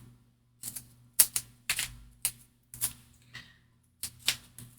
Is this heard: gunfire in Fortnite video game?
no